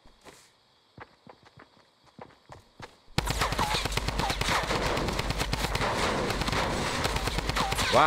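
Video game gunfire: sparse single shots over quiet for about three seconds, then a loud, sustained burst of rapid automatic fire filling the rest of the clip.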